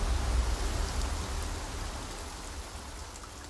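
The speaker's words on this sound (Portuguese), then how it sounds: "Acabou com a cachoeira." Waterfall in the video game Black Myth: Wukong, a steady broadband rushing roar with strong low rumble, loudest at first and easing slightly over a few seconds, with no talk over it.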